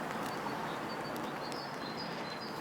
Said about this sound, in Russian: Птички какие хорошие летают.